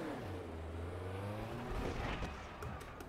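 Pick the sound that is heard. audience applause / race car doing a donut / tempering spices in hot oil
race car doing a donut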